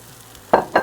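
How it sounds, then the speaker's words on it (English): Shrimp for firecracker shrimp go back into a hot pan in two quick bursts of sizzle, each a loud close crackle that fades, over a quiet kitchen background. "we're going to add the rest of the shrimp back into the pan"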